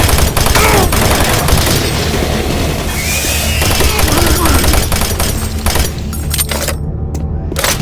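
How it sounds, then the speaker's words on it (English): Doom 3 automated turret guns keep up loud, rapid fire mixed with booming game effects, then thin out toward the end as the barrage drops away. "Warning, automated turret guns online."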